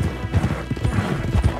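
Horses trot in the video game Red Dead Redemption 2, a rapid, steady clip-clop of hooves with heavy thuds, loud and close over a low rumble of movement, briefly and without speech.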